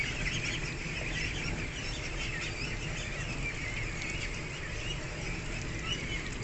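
Pekin ducks on a duck farm, a dense continuous flock of quacking and honking calls at steady moderate loudness, with no gaps or talk.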